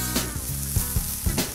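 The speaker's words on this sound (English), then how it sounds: "remember always to have your pan on high heat because you're taking this caramelization from the pan" Steak searing in a very hot pan, a steady loud sizzle with a few louder pops and crackles of fat, close by and with no talk.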